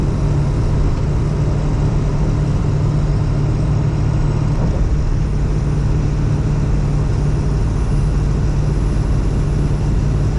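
A 7.3 Powerstroke diesel truck engine climbing a grade at about 18 psi of boost, a loud, steady, deep drone that holds without a break from start to finish.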